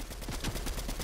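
Rapid automatic gunfire from close-range spray weapons in a building video game, a dense unbroken burst of shots throughout, loud and near.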